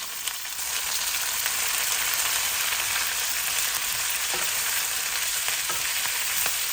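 Cumin seeds fry in a hot pan, with a loud, steady, close sizzle throughout and a few faint scrapes of stirring.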